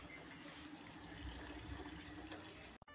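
Canned sardines boiling in a pot of water on a home stove, a steady low bubbling and simmering hiss that runs unbroken and fairly quiet, with a brief clunk at the very end and no talking.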